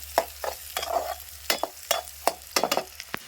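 Onions frying in a pan, stirred with a spatula: a rhythmic series of near scrapes and taps over a low, continuous sizzle.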